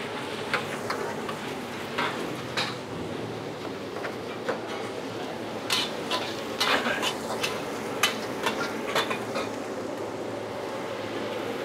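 Garlic, onion and capcay vegetables stir-fried in a restaurant wok, with steady sizzling under repeated sharp scraping and clanking of a spatula, close and fairly loud throughout.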